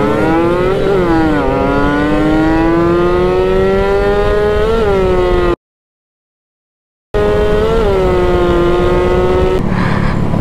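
Loud, close engine wail of RS150 and Raider underbone motorcycles racing on a short street, pitch climbing and dipping through gear shifts. Sound drops out completely for a moment, then the revving returns.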